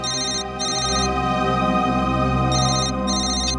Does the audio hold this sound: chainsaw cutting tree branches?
no